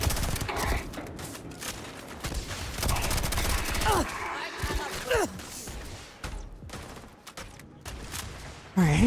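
Rapid bursts of weapon fire in the space game Starfield crackle in dense volleys, loud and close, with brief pauses, while someone talks over the shooting.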